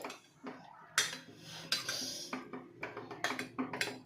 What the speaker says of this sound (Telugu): ఇప్పుడు మ్యాషర్ తీసుకొని ఇలా మ్యాష్ చేసుకున్నాను